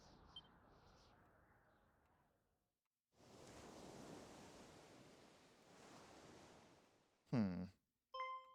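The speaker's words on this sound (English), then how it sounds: "I hear waves." Ocean waves wash in and out in Dragon Quest II HD-2D. The surf surges and recedes in soft rolling swells at moderate loudness, followed by a couple of short bright game chimes.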